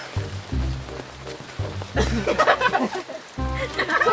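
Rain patters steadily in a village setting, a continuous hiss under low humming tones, with people talking over it in the middle and at the end.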